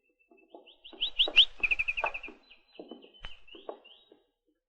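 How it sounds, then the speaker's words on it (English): Pet canary singing indoors in a house, a bright trilling phrase of quick chirps rising and repeating, with short broken calls after, fairly close and clear against a quiet room. "Colonel Cephas has a canary in almost every room."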